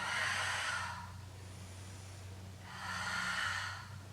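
Breaths during a Pilates exercise, two strong airy exhalations through the nose or mouth separated by a quieter pause, close and clear with a low hum in the background.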